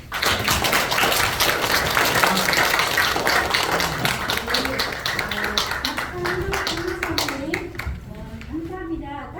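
Seminar audience at a book launch event breaks into sustained applause after a speech, dense clapping throughout that thins toward the end, with voices murmuring underneath.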